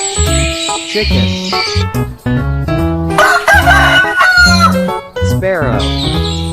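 A chicken clucks and a rooster crows in a series of loud, close calls, with long sweeping crows broken by short clucks.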